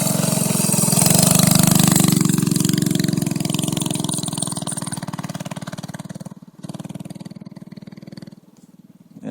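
Small Alaska minibike doodlebug engine revving up loud and close, a buzzy rising roar that holds then eases back and drops toward an uneven idle near the end.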